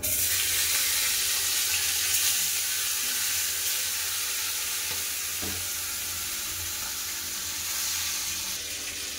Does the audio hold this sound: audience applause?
no